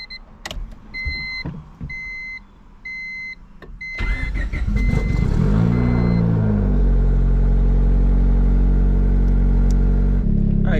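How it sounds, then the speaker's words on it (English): A turbocharged Honda Civic with a built D16 engine: door chimes and clicks first, then the starter cranks and the engine catches, revving up before settling into a loud, steady close idle. "So let's go ahead and fire this thing up."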